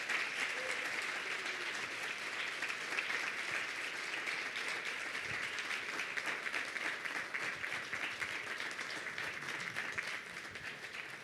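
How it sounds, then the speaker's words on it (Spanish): A church congregation applauds, and dense, sustained clapping fills the room at an even level for several seconds before easing slightly at the end. "Vamos a darle un fuerte aplauso al Rey."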